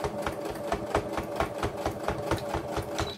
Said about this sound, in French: Je fais mes petits points arrière maintenant.